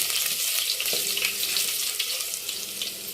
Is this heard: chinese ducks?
no